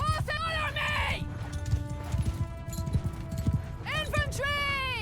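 Cavalry horses galloping in a Mount & Blade 2: Bannerlord medieval battle, a steady clatter of hooves running under loud shouting voices, with sharp horse whinnies near the start and end.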